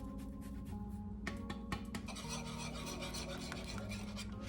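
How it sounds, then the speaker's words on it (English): A block of Parmesan cheese is rasped against a grater for an Alfredo dinner. The scraping is close and continuous, with quick rough strokes and no voices. "And a whole ton of Parmesan cheese. If you can grate it yourself, that is much preferred."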